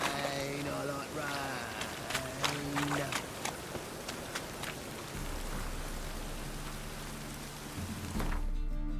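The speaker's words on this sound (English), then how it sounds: "Rain, I like rain." Steady rain falls in The Witcher 3 video game, a dense hiss of drops that runs unbroken under sustained low musical tones and scattered sharper taps.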